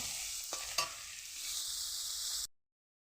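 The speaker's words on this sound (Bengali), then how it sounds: "আস্তে আস্তে করে ভেজে নেব।" Small shrimp fry steadily in oil, a continuous bright sizzle with a couple of quick utensil scrapes early on, running alone and close before cutting off abruptly.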